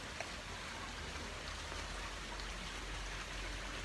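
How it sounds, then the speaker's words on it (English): Steady rain pours down outdoors beside a swimming pool, a dense even hiss of drops hitting the surface with no gaps, continuous and fairly close. "It's raining."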